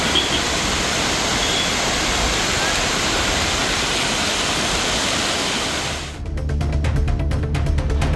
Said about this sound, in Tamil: கொடைக்கானலில் பெய்து வரக்கூடிய மழையால் வெள்ளி நீர்வீழ்ச்சி அருவியில் நீர்வரத்து அதிகரித்துள்ளது